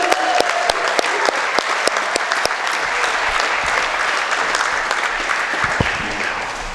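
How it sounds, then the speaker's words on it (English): An audience at the Stanstead College 2021 baccalaureate gives a sustained round of applause, with loud, dense clapping carrying evenly for several seconds and scattered cheers mixed in. "I hope that you'll join me in a round of applause, and maybe you can add a few woohoos if you like for Alta"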